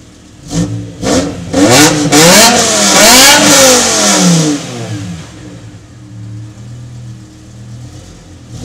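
A BMW M5 E60 revs hard while driving, several short throttle blips followed by a long rising and falling engine sweep, loud and close, then settling into a low idle rumble with no talk.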